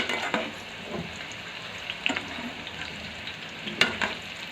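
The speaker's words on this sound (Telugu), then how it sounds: "లో ఫ్లేమ్లో పెట్టేసి మూత పెట్టకుండా వేయించుకోవాలండి" Bitter gourd pieces fry uncovered in oil over a low flame for pickle, a soft continuous sizzle broken by occasional scraping stirs of a utensil in the pan.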